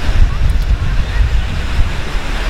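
Waves and wind on a beach on a warm monsoon-season morning, a steady low roar of surf with gusty wind rumble across the microphone throughout, no talk.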